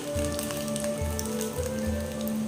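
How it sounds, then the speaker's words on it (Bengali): Fish roe fritters frying gently in oil over a low gas flame give a steady, close crackling sizzle with a soft low hum running underneath throughout. "বড়াগুলোকে ভাজতে পারেন।"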